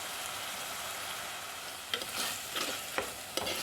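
Prawns with turmeric and salt are stirred in a pan for chemmeen theeyal, a soft constant sizzle broken by a few sharp scraping strokes toward the end, with no voices.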